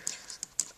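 Plastic action figure part clacking against the figure's head: three or four small, sharp, faint ticks spaced irregularly.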